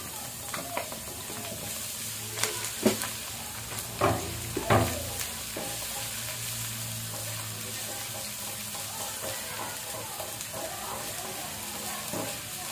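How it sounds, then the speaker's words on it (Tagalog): String beans sautéing in a pan for Filipino ginisang sitaw, a steady soft sizzle running throughout with a few scattered stirring clicks and clinks, close and moderately quiet. "Ay, gisa na natin. Sabay na natin yan."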